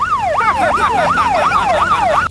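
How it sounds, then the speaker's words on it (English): A loud wailing siren sweeping up and down in a steady repeating rise-and-fall pattern, close and continuous, cutting off abruptly at the end. "Yes, please, can we do the siren?"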